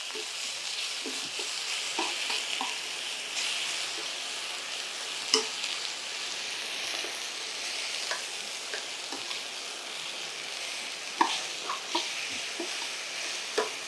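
Veal scallopini sizzling in a frying pan, a steady, quiet crackle broken by occasional sharper pops and scraping clicks as the meat is turned.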